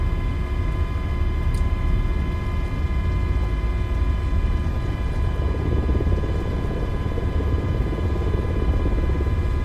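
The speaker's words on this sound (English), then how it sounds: "that's why you get that differing slap effect from the blades as they start going into the airflow" Simulated MH-60 helicopter in a flight simulator game, its steady turbine whine and low rotor throb continuous and loud throughout, with a dense rumbling blade slap that thickens in the second half.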